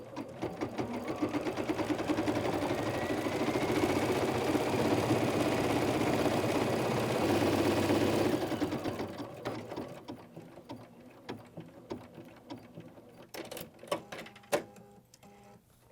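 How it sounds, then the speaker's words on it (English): An embroidery machine stitches a decorative satin-stitch snowflake onto a quilt block, running as a steady close whir for about eight seconds and then breaking into uneven clicks and short mechanical taps. "So it's ready to just start stitching that beautiful decorative satin stitch snowflake."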